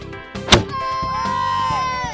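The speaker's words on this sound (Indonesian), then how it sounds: "Campuran uap minyak tanah dan oksigen dalam rongga bambu ini akan meledak jika disulut api." A single sharp, loud blast from a bamboo cannon fired by igniting kerosene vapour cracks out, followed by a lingering hum and tonal ringing.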